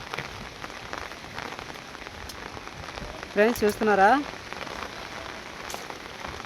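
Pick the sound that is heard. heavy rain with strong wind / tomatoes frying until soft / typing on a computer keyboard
heavy rain with strong wind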